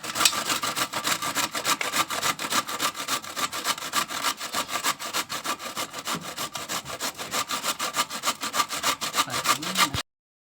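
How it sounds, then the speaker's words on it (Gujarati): Cabbage being grated by hand on a grater for Manchurian, a fast, steady rasping rhythm of dense scraping strokes, close and loud, continuing without pause and alone with no talk. "અત્યારે બેને કોબીજ લઈ લીધી છે, હવે તેને છીણી નાખશે બેન"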